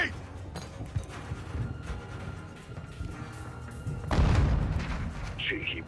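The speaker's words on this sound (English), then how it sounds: "Grenade!" A grenade blast in Call of Duty: Modern Warfare II's campaign, a loud low boom bursting out near the end amid scattered gunfire and combat clatter, with voices talking over the action.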